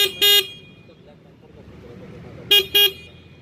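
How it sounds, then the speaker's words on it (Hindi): Horn of a 2021 Jawa Perak bobber motorcycle, two pairs of short, bright, loud electric honks separated by a quiet pause of about two seconds, heard close up. "हम लोग हॉर्न का साउंड भी सुन लेते हैं तब तक,"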